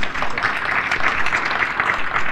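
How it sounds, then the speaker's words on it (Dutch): A crowd applauds award winners steadily, a dense wash of clapping that holds at an even level throughout. "Dames en heren, geef ze het applaus dat ze verdienen."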